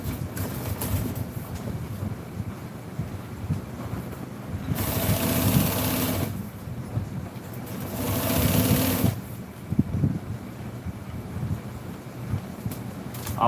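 A sewing machine stitches a seat cover for a 1966 Chevy truck in two sustained loud runs, separated by quieter handling noise and low background rumble.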